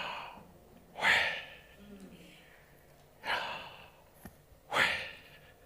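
A man imitates the sound of YHWH said without vowels as three drawn-out breathy exhalations, close and soft, spaced a couple of seconds apart.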